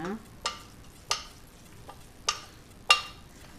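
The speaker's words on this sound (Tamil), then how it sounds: "அடுத்ததாக கருவேப்பிலை, கொத்தமல்லி இலை போட்டுட்டு நல்லா மிக்ஸ் பண்ணிடுங்க." Curry leaves and coriander stirred in a frying pan: about five separate scraping strokes at irregular intervals over a quiet sizzle, no talking.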